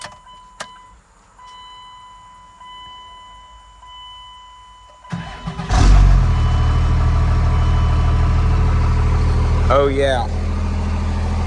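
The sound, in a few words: 2G Cummins diesel truck engine with cut exhaust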